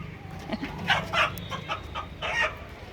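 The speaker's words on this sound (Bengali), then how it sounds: "বাবা মুরগিটা ধরে ফেলেছে" A hen clucks several times in short, uneven bursts, close by, with quiet background noise and no talking.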